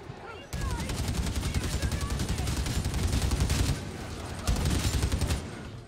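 A newly added weapon in a war-themed video game fires in rapid automatic bursts, a dense, loud rattle of shots with one short pause midway, then firing resumes.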